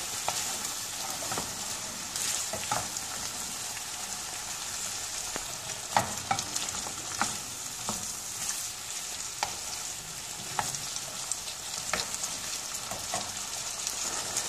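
Onion and peppers fry in a pan with a steady, even hiss of sizzling, broken by scattered small pops and crackles, with no talking.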